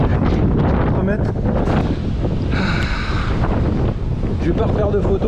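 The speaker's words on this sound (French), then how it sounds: "Avec le vent qui souffle." Wind on a fishing outing blows hard into the microphone as a loud, continuous rumbling roar, with a person talking over it throughout.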